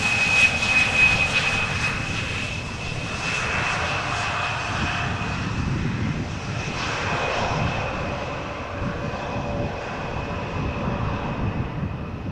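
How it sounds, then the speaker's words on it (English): Embraer jet arriving at Amsterdam Schiphol Airport after a flight from Newcastle, a sustained engine roar with a steady high whine, loud and close and slowly tapering off, with no talk. "This is the Embraer having arrived from Newcastle."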